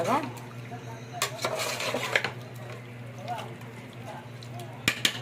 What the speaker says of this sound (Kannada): ಎಲ್ಲ ಕಡೆ ಮಿಕ್ಸ್ ಮಾಡ್ಕೊತೀನಿ